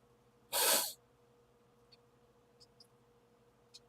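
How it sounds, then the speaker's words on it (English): A single sharp, loud sneeze bursts out close by, followed by quiet room tone with a few faint clicks. "Sorry, I had to sneeze."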